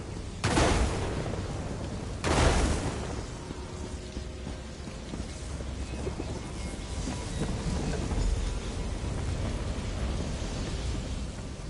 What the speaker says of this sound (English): Have some lightning! You want more lightning? I have plenty to go around!